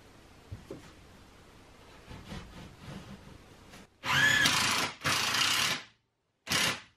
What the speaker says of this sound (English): my goal is to get 3 screws in the end of this board